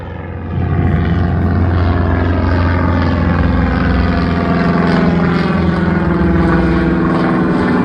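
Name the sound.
small propeller plane (puddle jumper) flying overhead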